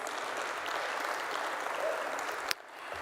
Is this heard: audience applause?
yes